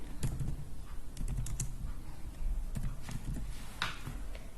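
Quick, close clicking of keys on a computer keyboard as an SQL command is typed, steady bursts of taps with a few brief pauses.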